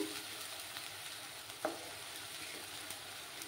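Onion paste frying in oil in a pan, a soft steady sizzle held at low level throughout, with one brief clink of a utensil near the middle and no voices.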